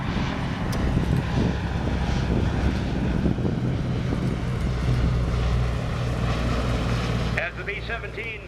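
Four Wright radial engines of a B-17 bomber drone steadily in a loud, rough fly-by that fades slightly near the end.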